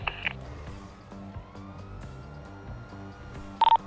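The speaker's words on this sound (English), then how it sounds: "You should hear the sirens coming right about now." Police sirens approaching during a video game roleplay, a faint wailing tone sweeping under a dense bed of game music and effects, with short electronic beeps at the start and end.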